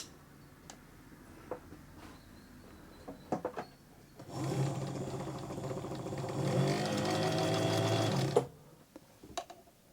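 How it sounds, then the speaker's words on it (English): A 1927 Domestic rotary sewing machine, set to its longest stitch length, runs steadily for about four seconds with a loud mechanical whir and stitching rhythm, bracketed by a few scattered clicks and taps before and after. "it's definitely sewing. The first stitches, here we go."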